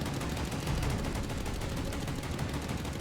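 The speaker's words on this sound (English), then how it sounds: "There's the anti-aircraft guns." Anti-aircraft guns in the naval combat game Task Force Admiral fire in a dense, continuous barrage of rapid overlapping bursts, loud and sustained throughout with no talking.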